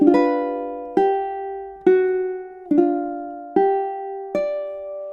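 Six strummed ukulele chords from a song, measures 13 and 14, sound at a steady slow pulse, each attack bright and ringing before the next, close-miked with no voices.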